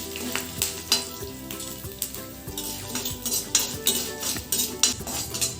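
Urad dal and curry leaves sizzle in hot oil for a tapioca vada tempering, a steady crackling fry under repeated metallic stirring clinks and scrapes, close up with some faint tonal background.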